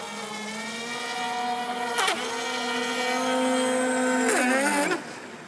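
A loud, steady airboat engine roar at full throttle with a strong harmonic whine, rising in pitch twice as the throttle surges, then dropping off near the end.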